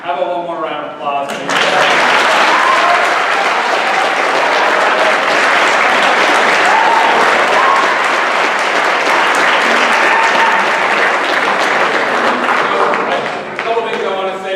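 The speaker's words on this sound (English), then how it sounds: "How about one more round of applause?" A school audience at an anti-bullying presentation breaks into another big round of applause after a brief spoken lead-in, dense and even for over ten seconds before fading as talk resumes.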